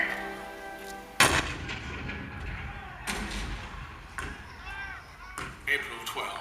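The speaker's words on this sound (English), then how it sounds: "The cannon spoke for war, bitter, violent, and devastating." Cannon fire in a staged Fort Sumter scene from April 1861: four heavy booms at irregular intervals, each a sharp blast with a rumbling tail, heard over a low background.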